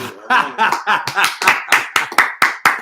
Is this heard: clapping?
yes